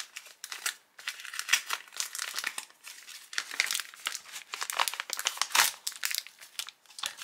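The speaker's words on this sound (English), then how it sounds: "I'm just going to slice across the top with my scissors" A paper envelope is sliced open across the top with scissors, giving close, busy crinkling and crisp paper rustles in uneven bursts for about seven seconds, with no talking.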